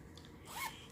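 A notions pouch zipper is pulled in one quick, close zip lasting under half a second, crisp against a quiet background.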